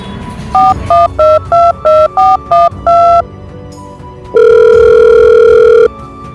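A telephone call being placed: a rapid run of eight dial tones, then a single long, steady ringback tone, loud and clear with no talking over it.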